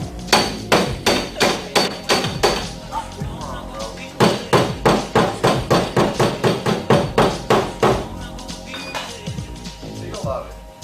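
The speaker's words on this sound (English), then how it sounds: "you need to take your hammer and kind of knock it in" Hammer knocking on car body metal in auto body repair, a rapid run of loud, close, ringing metallic blows in quick bursts with brief pauses, a voice speaking over parts of it.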